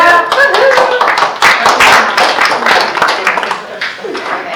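People applaud at a board meeting: a burst of lively hand clapping that rises quickly, stays dense and loud for several seconds, then thins out, with voices mixed in.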